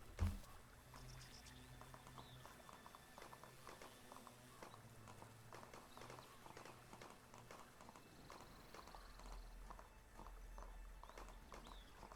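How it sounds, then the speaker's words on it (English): Horse hooves clip-clop at a steady walking rhythm in the fantasy game Gedonia, faint and quiet beneath soft ambient game sound. "the horse's hoofs is minus 40 decibels full scale"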